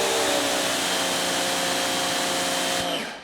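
A Wholesun 3000psi electric pressure washer fitted with a 2.5, 15-degree nozzle runs as a loud, steady motor whine with a spraying hiss, close and constant, then cuts off at the very end.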